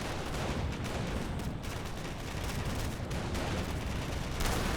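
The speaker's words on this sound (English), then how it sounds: "We got ground troops firing on us." Ground troops fire in Company of Heroes, a dense, continuous barrage of rifle and machine-gun shots mixed with distant battle rumble, steady and loud throughout.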